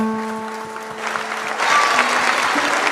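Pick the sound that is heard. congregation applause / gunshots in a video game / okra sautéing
congregation applause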